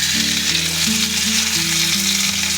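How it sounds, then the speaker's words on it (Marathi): Fish sliding into hot oil for a crisp fish fry, a dense, loud, continuous sizzle and crackle filling the whole moment without any voices. "तेल छान असं आपलं गरम झालेलं आहे तरी ते हळूस आपण एक मच्छी सोडत आहे"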